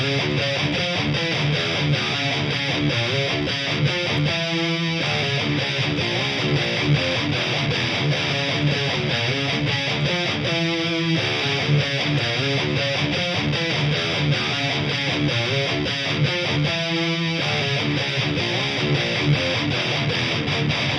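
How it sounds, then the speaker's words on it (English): Heavily distorted electric guitar through the Audio Assault Berserk amp plugin with compression plays a dense, loud riff throughout, with brief rhythmic breaks recurring every few seconds. "So the guitar tone sounds like this."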